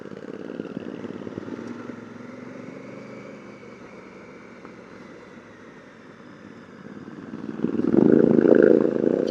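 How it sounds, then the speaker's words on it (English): A 2018 Honda Africa Twin Adventure Sports motorcycle engine drones steadily while riding on a dusty trail, then revs up louder near the end as the rear wheel is spooled up. "I'll spool that back wheel up and see if I can get some traction control happening."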